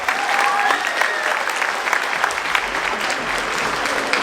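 A school audience applauds steadily throughout, a dense, sustained wash of clapping from a crowd at an anniversary celebration, with faint voices and a brief whistle blending in near the start.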